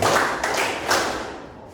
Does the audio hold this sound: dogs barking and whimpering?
no